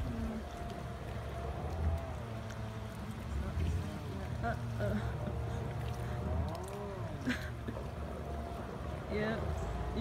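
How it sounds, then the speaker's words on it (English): Water trickling and pouring into a small boat that is out of control, a continuous gurgling stream close by with a low motor-like hum underneath and scattered bubbling accents, steady in level throughout. "It's filling with water."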